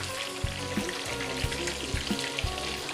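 Chicken pieces half-frying in hot oil, a dense continuous sizzle and crackle up close, with a few low soft thumps at intervals as the pieces shift or are turned.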